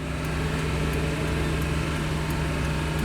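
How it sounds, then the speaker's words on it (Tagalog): A truck engine racing at extremely high revolutions while overheating and smoking, a loud steady droning whine that holds without a break, close by. "Sobrang taas ng revolusyon ng makina."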